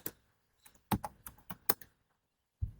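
A command typed on a computer keyboard, a short run of close, crisp keystrokes clustered at the start and a single louder tap after a brief pause.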